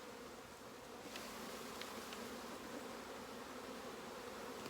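Honey bees shaken onto a hive's bottom board fill the air with a steady, dense buzzing swarm hum, constant and fairly close throughout.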